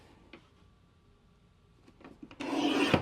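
A paper trimmer slicing through a sheet of aqua cardstock, with a few faint clicks before a short, loud scraping cut at the end.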